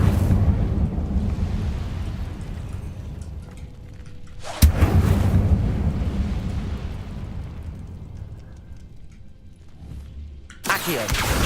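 A fire spell cast in Hogwarts Legacy: a dense, roaring rumble with a sharp burst of flame in the middle, a long fading roar after it, and another sudden blast at the end.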